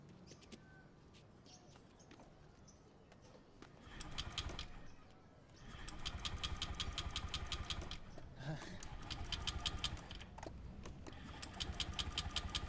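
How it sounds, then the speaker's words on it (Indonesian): A motorcycle engine idles quietly, rising into a steadier, louder running putter partway through with a brief dip before settling again, no talk present. "Naik motor aja lah ya."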